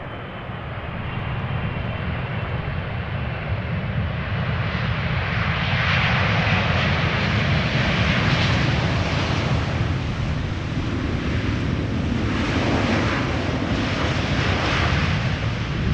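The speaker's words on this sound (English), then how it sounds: "I'm hoping this cargo plane is also heavily loaded and will also apply reverse thrust" A heavily loaded cargo plane lands at Amsterdam Schiphol Airport and applies reverse thrust, a loud, sustained roar of jet engines that builds and rumbles broadly, then stays dense and powerful with wind buffeting.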